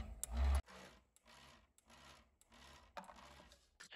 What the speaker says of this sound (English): For the vibration, I used a 12-volt massage motor, controlled through a relay connected to a Raspberry Pi.